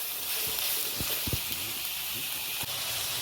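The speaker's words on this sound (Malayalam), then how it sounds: "ഈ ഉള്ളി ഒന്ന് നന്നായി വഴണ്ട് വരണം." Onions sauté in a pan over a low flame, giving a soft, steady sizzle and hiss close by, with a few brief stirring scrapes and taps and no talking.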